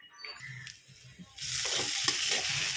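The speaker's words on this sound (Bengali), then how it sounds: "আলু পনিরটা একটু কষিয়ে নিই" Potato and paneer curry is stirred in a pan with quiet scraping at first, then a louder, steady frying sizzle takes over with occasional clinks of the spoon.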